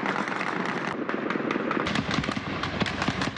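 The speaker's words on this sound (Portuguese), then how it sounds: "Os traficantes disparam sem parar." Drug traffickers in Vila Cruzeiro in Rio's north zone fire nonstop at a police helicopter flying overhead, producing a dense, continuous crackle of rapid gunshots heard from a distance. There is no talk.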